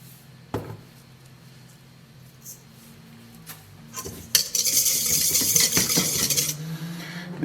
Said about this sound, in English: I'm actually going to whisk with a whisk